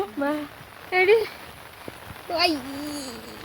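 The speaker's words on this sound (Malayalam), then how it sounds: "മഴയാണ് ഗൈസ്, മഴ." Rain falls steadily outdoors around a college campus, a soft continuous patter beneath several bursts of close voices talking.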